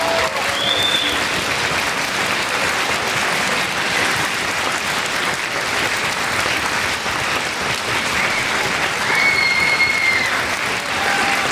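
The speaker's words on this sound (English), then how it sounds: "give them a round of applause" Sustained applause from an audience at a school spring concert of strings, concert and jazz bands, dense steady clapping filling a hall, with a couple of faint whistles.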